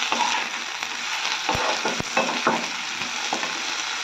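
Onions sizzle steadily as they fry in a pan, with a few sharp scrapes and clicks of a spoon stirring them, close and continuous with no talking.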